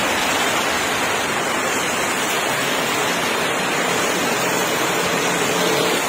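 Heavy rain with runoff water rushing and flowing, a steady, loud, unbroken roar throughout.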